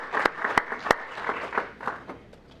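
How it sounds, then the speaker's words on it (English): Applause from an audience at an evening school board workshop and regular meeting, a few loud individual claps up front, then a looser patter of clapping that fades away over about two seconds. "let's give him a round of applause"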